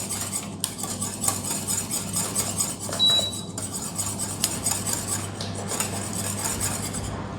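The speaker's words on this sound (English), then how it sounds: "mix the grain sugar and your eggs together" Granulated sugar and eggs are mixed in a bowl for a Dutch truffle cake, with steady close scraping and clinking of a utensil against the bowl, plus occasional sharper knocks.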